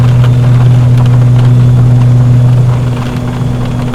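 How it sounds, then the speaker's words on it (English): Steady engine drone inside a flight simulator with an ATR turboprop, a loud constant low hum with a strong tonal band that eases slightly toward the end, with no talking. "Why can I hear a jet engine?"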